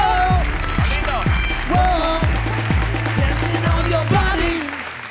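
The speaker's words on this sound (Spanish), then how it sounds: "Pido un aplauso para number one of Fortnite, Lolito Fernández." A TV studio audience applauds a guest's entrance on a Spanish late-night talk show as loud music with booming, falling bass hits plays over the clapping.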